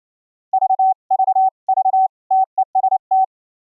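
A clean, loud single-pitch Morse code tone beeps in groups of short dots and longer dashes, sharply keyed on and off against silence.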